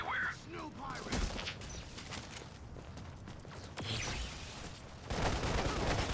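Enemy gunfire in the snowy shooter game Lost Planet, sporadic bursts and sharp cracks with mechanical clanks, mixed with game voices and effects under a spoken voice.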